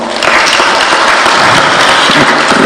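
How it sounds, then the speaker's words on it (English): A crowd at a funeral service applauding event organisers, a dense, loud burst of clapping that begins abruptly and holds steady for a few seconds. "can we just clap for them?"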